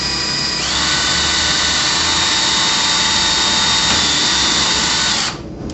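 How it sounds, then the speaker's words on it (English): A power drill with a bit pre-drills a hole for a bullnose Z-frame shutter frame before a trim head screw goes in, whining steadily and loud at close range for about five seconds before stopping abruptly. "you take your drill with your drill bit"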